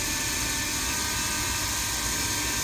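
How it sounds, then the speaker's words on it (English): A DBPOWER UDI U842 Predator drone's propellers spin up to a steady, high whirring buzz that holds throughout, close by and fairly loud, with no voices. "you can see how fast the propellers are already spinning"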